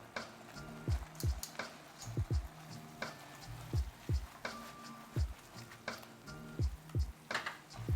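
Spaghetti is tossed through a thick, plant-based vegan cream sauce with ham and mushroom in a pan, giving a soft bubbling sizzle with repeated low thumps and scrapes of stirring every second or so, fairly quiet and close, without talk.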